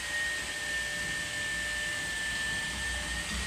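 A hair dryer used with a comb to straighten hair blows in a steady, even whoosh with a faint tonal whine, continuous throughout and fairly close.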